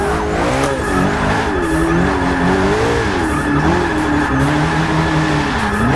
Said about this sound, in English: We got that perfect drift here